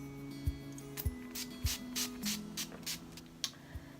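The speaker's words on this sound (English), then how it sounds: "I'm gonna set the face using All Nighter Makeup Setting Spray from Urban Decay." Urban Decay All Nighter makeup setting spray goes off in a row of short, close hissing bursts, about nine quick pumps at a fairly even pace.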